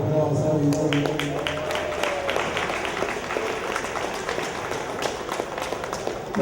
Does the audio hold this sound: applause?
yes